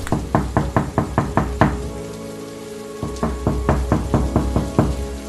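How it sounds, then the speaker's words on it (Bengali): Two quick bursts of about seven firm knocks each strike a wooden door up close. A short pause separates the bursts, and a steady rainy hiss runs underneath. "দরজাটা ধাক্কালো"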